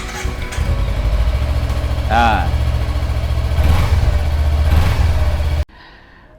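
A 2017 Kawasaki Ninja 250 Fi motorcycle on its stock exhaust idling close by, a steady low throbbing engine note with a brief voice and a sigh over it, cutting off abruptly near the end.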